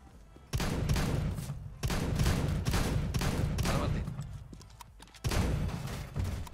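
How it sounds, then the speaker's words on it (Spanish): Bursts of rapid gunfire in a video game shootout, loud and close, with sustained volleys separated by brief pauses and a final burst near the end. "Lo cagué a balazos y el tipo no se murió."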